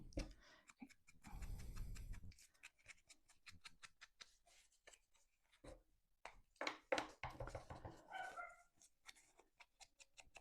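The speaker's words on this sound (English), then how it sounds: "You can hear my chihuahua barking, as chihuahuas are wont to do." A chihuahua barks in the background indoors, a few faint sharp yaps scattered among quiet household noises, with a louder burst of rustling near the start.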